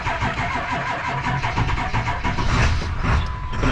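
An old work truck engine turns over and catches, running with a rough, lopey idle that stays loud and close throughout, with no talking.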